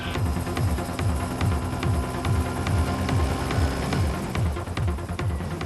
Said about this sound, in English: the sound of the helicopter is enough to alert the older of the two